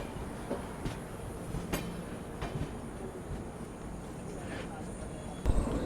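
A diverted Rajdhani Express runs along the rails with a steady, faint rumble and a few sharp clicks of the wheels over joints, heard from inside the train.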